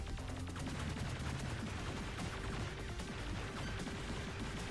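A shoot 'em up arcade game with one ship firing missiles and another a spread shot, a dense continuous rattle of rapid weapon fire and explosions, steady and busy throughout, with no talking.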